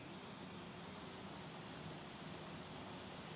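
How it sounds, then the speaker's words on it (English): An Airbus A320neo-type airliner taxiing at Queenstown in the X-Plane 12 flight simulator, producing a faint, steady engine rumble with a constant high-pitched whine running continuously in the distance. "Oh, a plane's taxiing."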